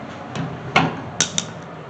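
A few sharp metallic taps and a small pop as a seal is knocked out of a 1979 Chevy C10 axle, close and clear, with quiet gaps between the hits.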